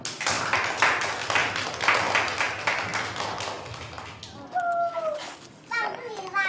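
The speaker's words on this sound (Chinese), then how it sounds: "我们以热烈的掌声欢迎杜鹃老师。" Children clapping in a rapid, dense burst to welcome a new teacher, close and lively for about four seconds, then giving way to excited young voices.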